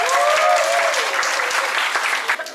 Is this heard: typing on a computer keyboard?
no